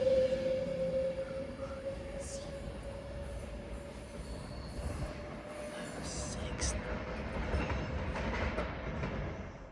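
A train pulls out of Stoke-on-Trent station bound for London Euston, with a sustained wheel squeal and a rising rumble over station ambience and distant voices.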